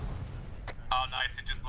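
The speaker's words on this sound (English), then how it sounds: "Oh, nice. It just blew up." A BTR armoured vehicle explodes in a video game with a deep low boom, followed by sharp bursts and crackling pops as voices talk over it.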